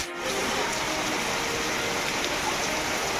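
Sudden unseasonal rain pours steadily over a Konkan mango orchard, a dense, even hiss of drops hitting surfaces that stays loud and unbroken throughout, with no voices.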